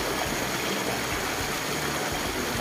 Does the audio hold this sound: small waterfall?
yes